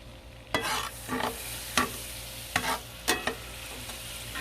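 Dehydrated chopped onion stirred into gravy on a Blackstone griddle, with a low constant sizzle and about six quick scraping spatula strokes in an uneven rhythm, close and clear with no talking.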